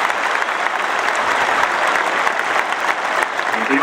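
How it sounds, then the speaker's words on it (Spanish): Loud, dense crowd applause fills the medialuna arena at a national rodeo championship inauguration ceremony, continuous throughout with a faint murmur beneath. "fuerte aplauso que se escuche en el cielo para Don Gonza"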